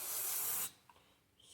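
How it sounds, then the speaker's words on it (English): Carb cleaner hisses in a loud, steady spray onto a shop towel during crank bearing installation, cutting off abruptly after about half a second, followed by faint rubbing and handling noises. "Spray some carb cleaner on the toweling."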